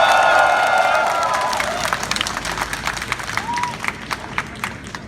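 A student audience at a rally claps and cheers after a speech, loud dense applause at first, then thinning into scattered individual claps and calls as it fades.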